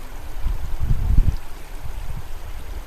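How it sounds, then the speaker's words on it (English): A stream running in front of a yurt in Mongolia: a steady, low rushing water murmur with a louder gurgling swell near the start, continuous and fairly close, with no talk. "The most pleasant thing is this stream, which is just running in front of our Ger."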